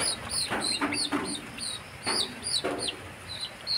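Black Australorp chickens cluck and squawk close by in short repeated bursts, with a high-pitched chirping backdrop running throughout.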